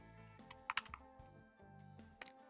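A few keystrokes on a computer keyboard entering a value in a Unity inspector field, giving sparse, crisp clicks with a short cluster near the middle and a final tap, quiet and close over a low hum.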